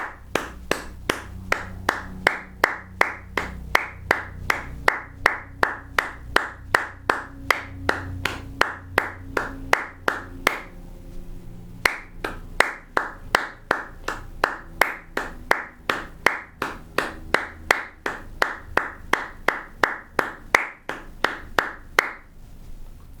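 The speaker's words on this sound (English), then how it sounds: "how about you play the saxophone part, I'm gonna clap" Hands clap a steady, even beat of sharp claps, close and alone, running throughout with a brief pause midway, keeping time for alto saxophone practice.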